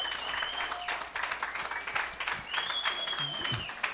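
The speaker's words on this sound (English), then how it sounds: "Let's have a big round of applause." An audience claps loudly in a sustained round of applause, with faint whistles and voices mixed in.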